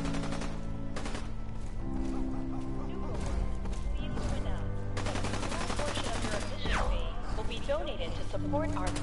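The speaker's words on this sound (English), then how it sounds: "That was a nice bullet sound effect for the ricochet. This gun is amazing." Rapid gunfire with ricochets from Fallout 4's Nuka World: loud repeated shots and sharp whizzing ricochets, close and dense, over a busy layered game soundtrack.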